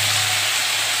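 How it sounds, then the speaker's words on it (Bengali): Cauliflower frying in a hot pan of oil, a steady bright sizzle and hiss with no break, close up and alone. "ভাজা হতে থাকুক ফুলকপিটা।"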